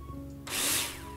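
A power drill in the video game Builder Simulator whirs up suddenly after a quiet moment, one loud, close burst of high-pitched drilling lasting under a second.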